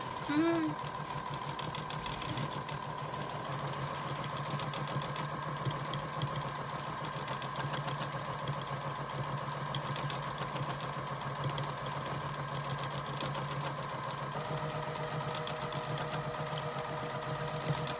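Sewing machine doing straight stitch embroidery, a continuous fast rhythmic whirring hum with steady needle chatter running throughout, with a person talking at times.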